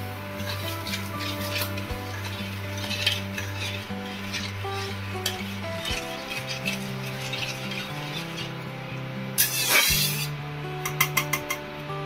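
Thickened milk with sugar being stirred in a pan for kalakand, a soft continuous scraping and swishing of a utensil against the pan, with occasional clinks and a louder rattle near the end, no speech.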